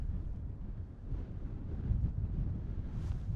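Strong wind buffets across an open golf course, a low, continuous rumbling roar that swells and gusts steadily, with no voices over it.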